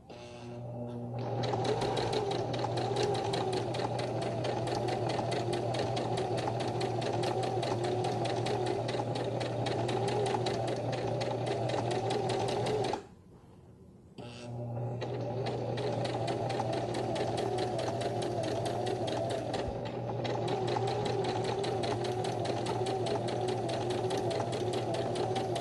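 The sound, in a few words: sewing machine stitching romper fabric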